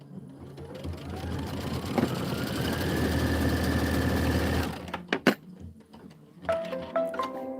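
A sewing machine runs in one long continuous burst of stitching through quilted pillow pieces, then stops, followed by a few close clicks and handling knocks.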